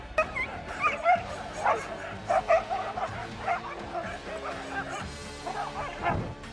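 A dog barks and yips in quick, uneven bursts, with whimpering in between, at moderate loudness.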